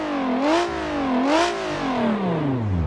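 Custom engine sound on a BeamNG.drive car, revving up twice with rising and falling harmonic pitch, then winding down smoothly as the revs drop, loud and close with no talk.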